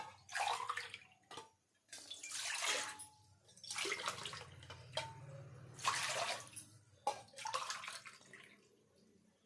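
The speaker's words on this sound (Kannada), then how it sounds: "ಅದಕ್ಕೆ ಮೂರು ಗ್ಲಾಸ್ ನೀರು ಹಾಕ್ತಾ ಇದ್ದೀನಿ" Water is poured from a glass into a pot of rice flour in several separate splashing bursts with short pauses between, close and fairly clear.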